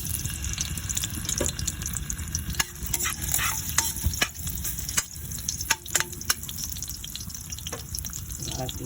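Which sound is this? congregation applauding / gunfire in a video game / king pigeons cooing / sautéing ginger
sautéing ginger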